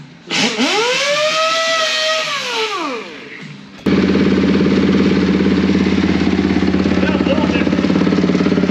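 A rising whine sweeps up and falls away, then a snowbike's small engine catches and runs loudly with a steady, rapid chugging idle.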